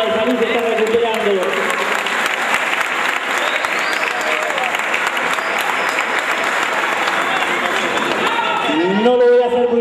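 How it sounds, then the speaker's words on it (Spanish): Loud, steady audience applause at a benefits handout event in José C. Paz, sustained for nearly ten seconds with crowd noise throughout and a few voices emerging as the clapping fades near the end. "para el cual pido un fuerte aplauso"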